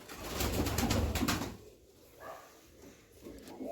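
Pigeons kept by pigeon fanciers coo and rustle close by, a dense burst of cooing and fluttering in the first second and a half, then quieter scattered calls.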